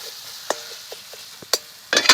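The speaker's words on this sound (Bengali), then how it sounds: "মশলাগুলোকে দিয়ে একটু ভেজে নিচ্ছি।" Kashmiri chilli powder, turmeric and other spices frying in a pan for eggplant bharta, heard as a few brief scrapes and stirs with soft sizzling, the strokes spaced out before a louder burst of stirring at the end.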